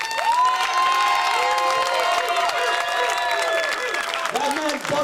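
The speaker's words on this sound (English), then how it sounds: "So, a round of applause to Scorpio." A wrestling event crowd applauds and cheers loudly for the wrestler Scorpio, steady dense clapping with shouting and a voice over the din, close and sustained.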